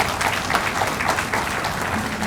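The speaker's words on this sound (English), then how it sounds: "kindly give a big round of applause to him." Audience applause for Prof. V. S. Chauhan after his distinguished university lecture on the social responsibility of science: a dense, steady wash of many hands clapping throughout, close and fairly loud.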